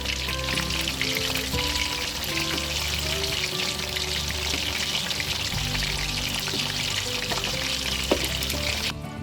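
Chicken breast fillets fry in oil with a steady, dense crackle and sizzle that continues throughout, with soft tonal background sounds underneath.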